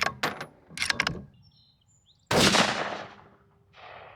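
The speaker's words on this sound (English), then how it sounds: "We're going to take 3 shots at 100 yards." A rifle firing at a target 100 yards away: one sharp, loud crack that rings out into a decaying echo, preceded by handling clicks and brief rustling, with no speech over the shot.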